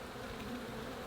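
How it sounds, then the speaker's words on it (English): Bees humming as a swarm at an open hive with larvae in the comb, a dense continuous buzz filling the whole moment at close range. "and a good number of bees"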